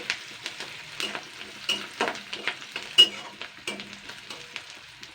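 Onions fry in a pan for a meat curry, with a steady sizzle broken by repeated scraping stirs of a spatula, loud and close with no talk.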